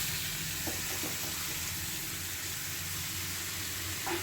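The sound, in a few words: bottle gourd frying with cumin, salt and turmeric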